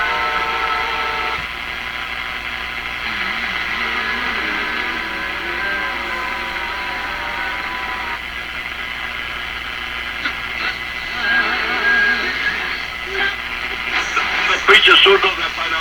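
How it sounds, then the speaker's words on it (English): Ham radio broadcast received on a Hallicrafters S-38D shortwave set, a voice talking through hiss, hum and shifting static, with crackling interference and brief whistling tones growing near the end. "a type of ham radio broadcast"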